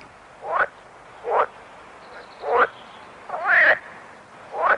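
Frogs croak in a steady series of five short, throaty calls spaced about a second apart, fairly close over a quiet background.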